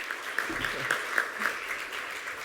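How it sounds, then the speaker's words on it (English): A summit audience at the New York Stock Exchange gives Dr. Anderson a round of applause for hosting, a fairly quiet, distant spread of clapping with a voice murmuring underneath. "I don't know if we can give him a round of applause for hosting this event."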